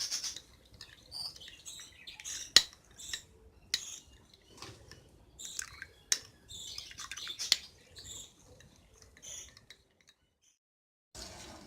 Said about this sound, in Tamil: இப்படி கட்டி இல்லாமல் கலந்துக்கலாம்